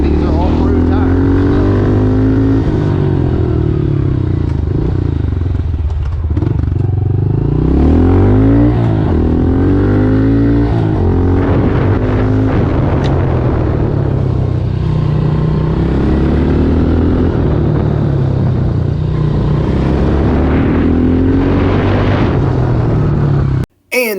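A 2022 Honda CRF110F dirt bike on off-road tires runs close by with a continuous engine buzz. The revs rise and fall through several throttle blips. A rider talks over the engine noise.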